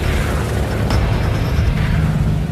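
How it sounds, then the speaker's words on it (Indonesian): A loud, continuous rumbling roar of heavy cannon fire from an alien ship battling navy ships in the film Battleship, dense and booming, with a sharp burst cutting through near the start. "dengan mudah kapal alien menyerang balik dengan tembakan meriam"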